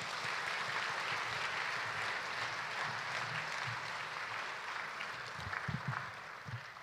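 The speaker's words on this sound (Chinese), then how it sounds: "再给他们一次掌声好吗？" A crowd at a church gospel gathering claps steadily in a dense, fairly distant wash of applause that tapers slightly toward the end.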